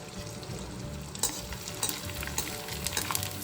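Edible gum (gond) frying and puffing in hot fat for laddu, a steady close sizzle with scattered crackles and small pops as a handful of pieces swell, no talk over it.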